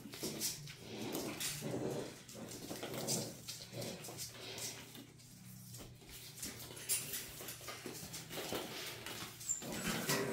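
Young puppies of a litter at day 37 playing with balls, making soft scuffling, pattering and small whimpering sounds, faint and continuous with a busy, low-level clatter.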